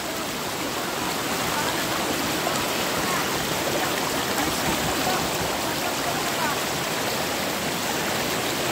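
A cold river at a bathing spot on Balabac Island rushes in a steady, dense wash of flowing water, loud and close, with faint voices beneath.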